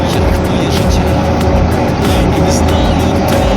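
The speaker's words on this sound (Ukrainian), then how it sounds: "Вон вже Трактор з сівалкою вже спереду" A tractor pulling an Origin Seed 3.0 seed drill while sowing soybeans in a field gives a loud, steady engine rumble that holds without a break from start to finish.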